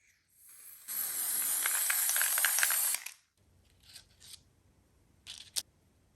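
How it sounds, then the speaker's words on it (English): A single long hiss from an Edding permanent spray paint can lasts about two seconds, followed by a few short, faint spritzes. "I'm going to use this permanent spray by Edding"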